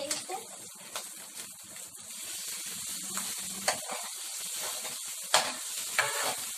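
Soy sauce poured into a rice mixture cooking in a pan, steady sizzling and hissing with scraping stirs and a few sharp clinks of the utensil, a voice talking quietly underneath.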